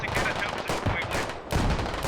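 Gunfire in the tactical shooter Squad, dense overlapping rifle shots in rapid bursts, loud and continuous with a brief lull before firing resumes.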